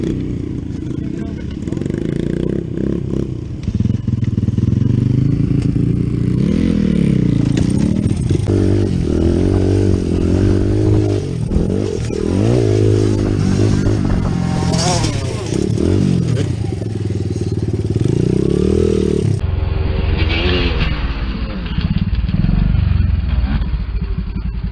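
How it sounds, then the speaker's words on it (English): A dirt bike slides and drifts through thick mud, its engine loudly revving up and down in rising and falling surges, with clattering and scraping, and a rider talking over it. "Look at this bike is drifting so much mud."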